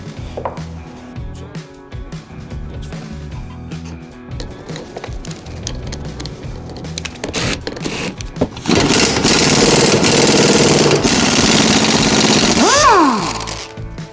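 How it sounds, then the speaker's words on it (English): A pneumatic air impact gun works on a 1997 Honda XR70R pit bike in a garage: scattered clanks and handling noises, then a loud, close sustained rattling burst of the air tool for several seconds, trailing off into brief whirring. "these old air guns just get anything off"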